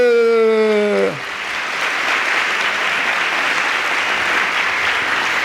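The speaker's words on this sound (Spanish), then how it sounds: "Un aplauso para Jesús." A church congregation breaks into applause during a Spanish-language Catholic sermon, a dense, steady wash of many clapping hands that fills the room for several seconds after a brief sung or spoken tone at the start.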